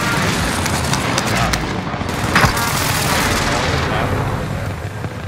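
Rumbling airstrike blasts and gunfire boom continuously through a chaotic video game battle, with a sharper impact near the middle over a dense, loud wash of noise.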